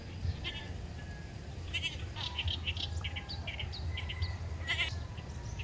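A goat bleats several times in a rural farmyard setting, with short wavering calls spread across the moment. Bird chirps and low background murmur sit underneath.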